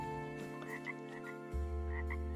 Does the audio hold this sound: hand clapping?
no